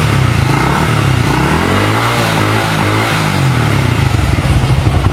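A motorcycle engine with a full-wave charging conversion revs steadily and loudly throughout, its rising and falling pitch sweeping under a constant mechanical drone as it charges the battery.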